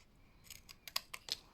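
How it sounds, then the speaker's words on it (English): Scissors cut through a paper card panel for a gate-fold shutter card, giving four or five crisp, quiet snips in close succession. "So I'm going to cut both sides, and then I'm going to cut down that line"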